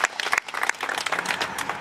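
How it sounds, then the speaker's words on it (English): Brief applause for the councillors at a 2012 IDAHO speech event in Wyndham: a short burst of clapping from a modest crowd at moderate volume. "Round of applause for them."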